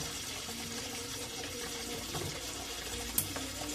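Water runs steadily from a broken household faucet, a constant close rushing stream with a brief clank near the end and no talking.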